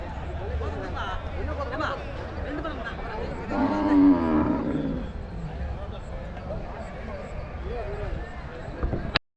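Cattle at the Uthangarai cattle market: one long, loud moo rises midway above a crowded din of shuffling animals and nearby people talking.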